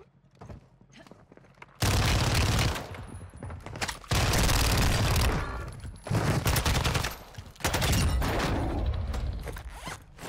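Fennec SMG in Warzone 2 firing in four loud, rapid full-auto bursts separated by short pauses, each a dense stream of shots with quieter movement between them.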